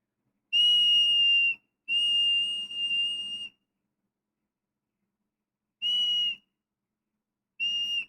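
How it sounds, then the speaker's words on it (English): A Squidward whistle in a video game shrills in four clean, high-pitched blasts, two long and two short, separated by silent gaps. "I could whip out the Squidward whistle"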